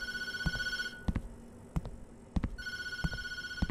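Telephone ringing in the horror video game Tattletail, a loud electronic bell trilling in repeated bursts with short gaps, punctuated by sharp knocking thuds.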